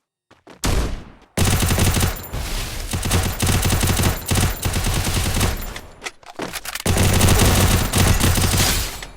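Loud bursts of automatic gunfire from a shooting video game, long rattling volleys broken by short silent gaps, heard alone without talk.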